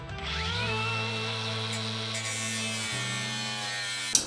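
A cordless power tool carves out part of a panel with a loud, steady high-pitched motor whine that holds for about four seconds, ending in a sharp click.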